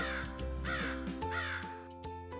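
A crow caws several times in a row, close and clear, with harsh rasping calls over a soft tonal background.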